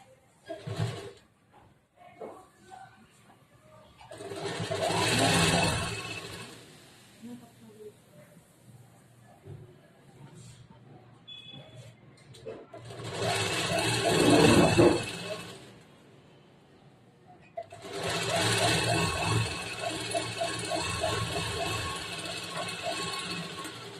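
Sewing machine stitching a seam on a blouse, three long bursts of rapid mechanical whirring and clatter separated by quieter pauses with small handling noises, close and fairly loud.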